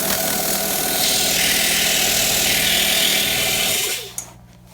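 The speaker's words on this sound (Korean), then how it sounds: "여기 부분에서 지금 에어가 많이 새고 있습니다." An air compressor runs steadily nearby with a loud, continuous hiss of escaping air over its motor hum, then the noise drops off sharply near the end, leaving a lower residual drone.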